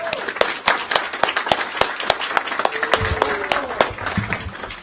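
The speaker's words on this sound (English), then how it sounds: "let's give them one more round of applause" A school board meeting audience gives a round of applause for award winners, with scattered individual hand claps standing out over a steady bed of clapping and faint voices underneath.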